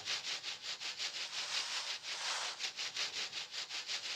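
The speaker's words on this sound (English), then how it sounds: "What's this second shaker down here?" A shaker sample from Groove Agent 5 rattles in a steady, quick rhythm, each bright hissy shake evenly spaced, played alone.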